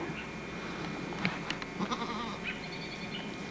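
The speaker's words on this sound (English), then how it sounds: "Whoa, a little bouncing goat." Small goats bleating on a farm, a few short calls rising over steady outdoor background noise at moderate distance.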